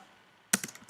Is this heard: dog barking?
no